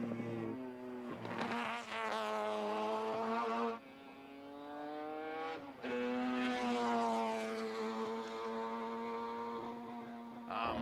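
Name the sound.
Moffat's Mazda race car engine at Bathurst, Mount Panorama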